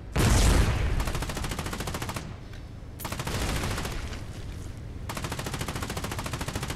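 Naval guns in the war game Foxhole fire in a loud, dense run of rapid blasts, with an opening heavy boom, brief lulls near two and five seconds, then sustained pounding to the end.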